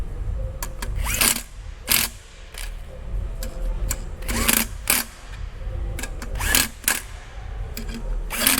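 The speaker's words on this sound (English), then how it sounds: "So we're gonna drill them on." A power drill whirs in short bursts while driving bolts back on during a Hyundai Veloster N tune install, repeated several times with pauses between, interspersed with clicks and light clatter of tools nearby.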